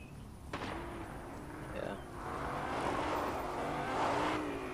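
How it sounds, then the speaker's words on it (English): In the Fortnite video game, a car engine hums faintly at a distance, its low drone gradually swelling and fading under a sharp distant crack of gunfire. "I hear a car."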